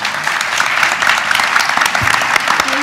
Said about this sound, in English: please give a round of applause for our amazing panel.